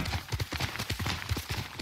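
Horse hooves clip-clopping at a gallop in the Ghost of Tsushima video game, a steady rhythmic run of close, moderately loud hoofbeats with faint speech-like traces.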